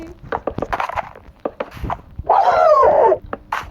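A dog in a survival video game with zombies barks in a few sharp yips, then lets out a longer whining howl before one more short bark, loud and close.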